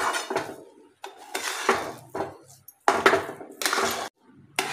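A metal spoon scrapes and clinks against a pan while semolina sheera with cardamom is stirred, in short irregular bursts of clattering with quiet gaps between them.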